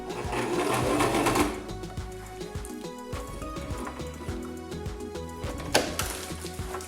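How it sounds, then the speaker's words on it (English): Domestic sewing machine stitching a wig tag label in place, a steady close mechanical whirr with rapid needle chatter that runs at full speed, then continues in shorter uneven bursts with small clicks and pauses. "I'm going to position my needle into the corner, right at the corner of the label, and I'm going to start sewing."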